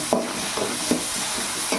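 Onion, green chilli and a pinch of turmeric stirred in a hot pan, regular scraping strokes of a spoon about every few tenths of a second over a low, steady sizzle.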